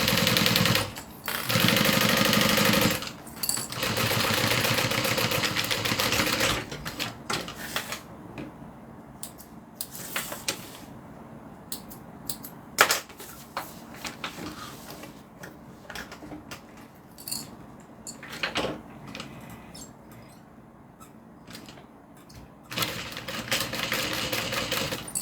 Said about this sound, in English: I'm going to stitch down each side.